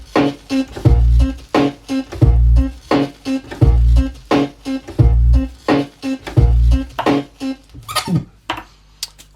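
Turntable beat juggling of a two-beat loop, punchy kick and snare hits repeating in a tight regular pattern with scratchy record squeaks between, loud and close, ending with a brief scratch.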